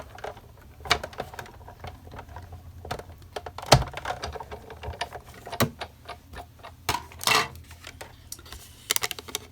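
A manual die-cutting machine is hand-cranked to run a stitched frame die through card, giving irregular close ratcheting clicks, gear ticks and sharper clunks with quiet gaps between them and no talking.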